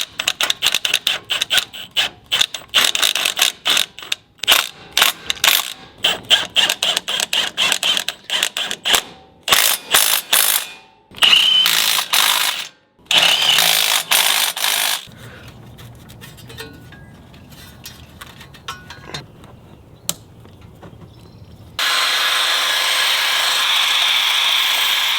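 Ratchet tightening bolts on a car axle assembly during a wheel bearing upgrade, rapid clicking bursts in uneven runs up close, then quieter mechanical handling and a steady hiss near the end.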